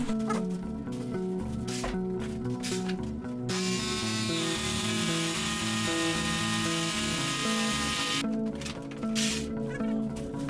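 A 65 mm round drill bit grinding through a wall for an air conditioner installation, a loud steady whine and rasp building in the middle stretch amid rhythmic mechanical clatter, close by with no talking.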